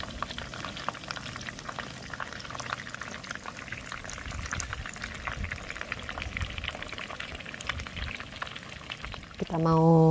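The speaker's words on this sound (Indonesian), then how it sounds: "Kita mau goreng risol dari Zamika Food." Risoles sizzle in oil at a family campsite in Bogor, giving a steady crackling fry with bubbling, fairly close, before a brief louder tonal noise at the very end.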